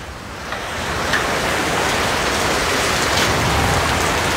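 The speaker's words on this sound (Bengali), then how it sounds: "দেখেন বৃষ্টি আর বৃষ্টি" Heavy rain pours down in Malaysia, a dense, continuous hiss of drops drumming on surfaces that swells after the first half second and stays loud and even throughout, with no voices.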